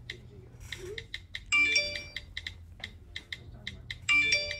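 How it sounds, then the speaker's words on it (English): A phone ringtone goes off indoors, a repeating electronic melody of short bright chirps in quick bursts, with two louder swells, over a low steady hum from a TV in the background. "You hear your phone going off?"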